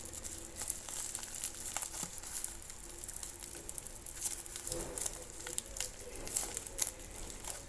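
Packaging is peeled slowly off a parcel holding a paracord bracelet, giving faint, soft crinkling and light rustling that patters on irregularly and close by.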